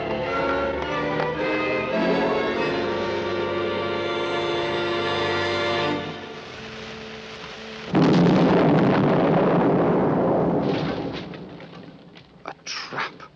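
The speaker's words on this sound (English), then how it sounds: "It's going to explode." A big explosion sound effect from the 1967 Supermarionation series Captain Scarlet and the Mysterons, a pulsator device blowing up, bursts in loud and rumbling after a stretch of music, then fades out with scattered debris.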